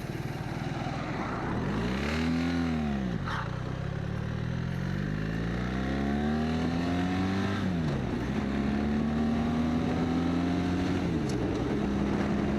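A BMW R1300 GS Adventure motorcycle out on a coastal ride, its engine note climbing and dropping through repeated gear changes as a steady, close drone with wind, no voices.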